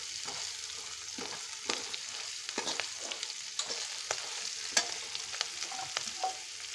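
A frying mixture seasoned with salt and turmeric is stirred in a pan, with a steady soft sizzle under repeated scraping stir strokes of varying loudness, close up and with no talking.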